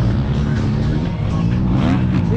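A quad ATV engine at a race, revving and roaring loudly up close as it takes a corner, its pitch rising and falling through the clip.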